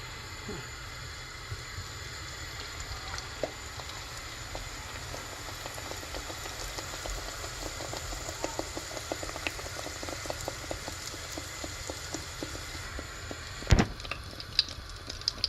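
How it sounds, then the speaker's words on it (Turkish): Steady bubbling sizzle of yeasted pişi dough frying in oil, with faint crackles and pops throughout and one brief louder knock near the end. "Şimdi kızartmaya başlıyorum."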